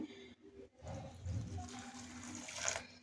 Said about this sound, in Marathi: आता हे दोन्ही मी स्वच्छ धुवून घेते